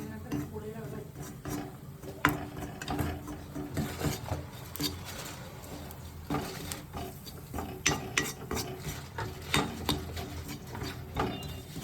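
A spoon stirring food in a cooking pot in a home kitchen, soft scraping and clinking strokes repeating irregularly at moderate volume over a low background hum.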